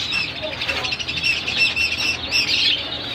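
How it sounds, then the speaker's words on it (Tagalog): Birds calling outdoors, a dense chorus of squawks and chirps running continuously and fairly loud throughout. "Allah, ang ganda ng mga ibon."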